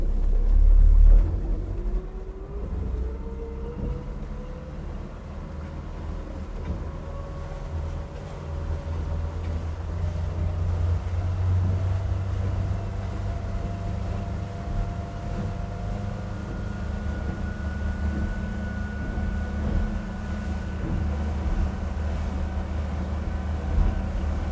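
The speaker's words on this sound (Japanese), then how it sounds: "このままマリーナに帰るという気持ちでワッチを忘れずにアクセルを上げていってください。" A motorboat running on navigation mode with the throttle rising, heading back to a marina; a steady engine drone with a slowly climbing tone over continuous water and wind noise, close and even, without speech.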